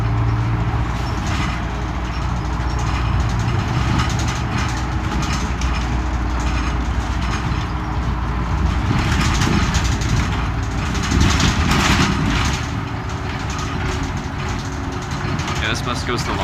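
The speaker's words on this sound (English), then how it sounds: "This bus goes to Long Beach." Steady low rumble of a city public bus, route 104 heading toward Long Beach, engine running continuously with road and cabin noise filling the space, a voice talking over it at times.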